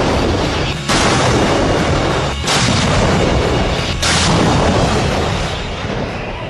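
Towed howitzer artillery fires three heavy booming shots at roughly even intervals, each loud blast followed by a rolling echo that fades into the next.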